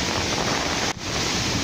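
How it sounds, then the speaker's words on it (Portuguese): Roaring wind and crashing sea waves during Cyclone Idai in Beira, Mozambique: a loud, steady broadband rush that drops out briefly midway and then resumes, with no voices. "esta temperatura, esta ventania, este ciclone que tem se registrado nessas áreas"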